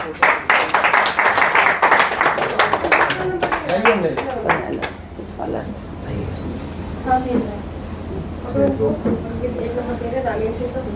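A hall audience claps in welcome at a public gathering, a loud dense burst of applause that fades after a few seconds, with a voice speaking over and after it.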